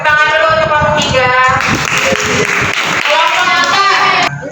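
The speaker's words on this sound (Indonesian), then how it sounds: "Tepuk tangan dulu untuk kelompok tiga." Classroom applause for a student group, a burst of clapping from pupils rising in the middle and fading near the end, heard under a teacher's speaking voice at the start and close.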